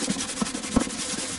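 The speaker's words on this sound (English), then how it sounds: "then I'll go in with my manual sanding" Hand sanding lacquer on a Baby Taylor guitar headstock, a steady soft scratchy rasp with a few brief bumps of stroke changes, close by and continuous.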